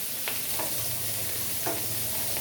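Hilsa fish head with chopped onion and green chili frying in hot oil, a steady close sizzle with a few soft scrapes of stirring.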